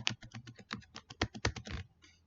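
Rapid typing on a computer keyboard, a close, irregular flurry of crisp key clicks with a short pause before a final soft tap, no voices.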